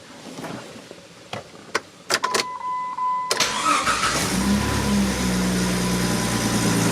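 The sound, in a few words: camper engine running after rewiring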